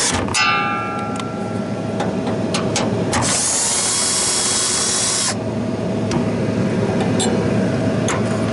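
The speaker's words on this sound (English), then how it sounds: "let's see if I can get my drill all the way around here" A drill running at a walk-in cooler condensing unit, with a steady loud motor drone throughout, sharp ticks and clicks, and a stretch of higher whine in the middle.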